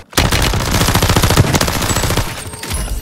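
Rapid automatic gunfire from Call of Duty: Warzone on Rebirth Island rattles in one sustained, loud burst of close shots, tapering off near the end.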